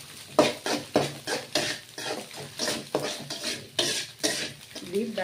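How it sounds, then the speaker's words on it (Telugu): Spices and green chillies fry in a pan for egg rice, heard mostly as a rhythmic series of close stirring scrapes and utensil knocks against the pan, with only a faint sizzle beneath. "ఇదంతా ఒకసారి ఫ్రై చేసుకోవాలి."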